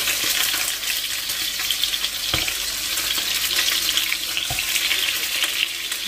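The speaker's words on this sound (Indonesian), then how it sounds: "goreng kelincinya" Rabbit meat fries in a pan, a loud, steady sizzle and crackle filling the whole stretch, with a few sharp clanks of a utensil stirring near the middle.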